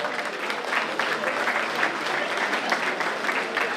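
An audience applauds prize winners at a regional culture award ceremony in Île-de-France, with dense, steady clapping filling the room at full volume throughout.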